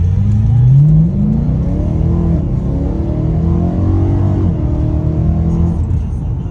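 A 2009 V8 car engine revs up, its deep rumble climbing sharply at first, then holding a strong, loud, close idle-to-mid drone with smaller rises and dips.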